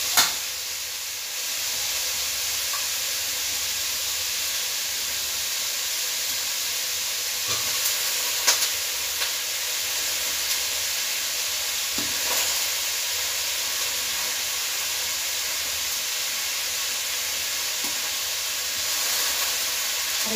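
Chicken pieces for a chicken curry sizzle and fry in a pan in a village kitchen, a loud steady hiss of hot oil with occasional stirring clatters, continuous and close.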